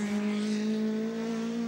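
BMW touring car at the 1988 Tooheys 1000 Bathurst top-ten shootout, locking its brakes, a steady loud engine drone with a sustained tyre squeal running throughout.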